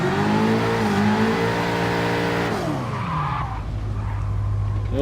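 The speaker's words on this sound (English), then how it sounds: "I cannot recall it drifting so smoothly." A Subaru BRZ drifts in GT Sport with a loud, sustained tire squeal over a revving engine, the pitch sliding down before the squeal gives way to a low engine rumble.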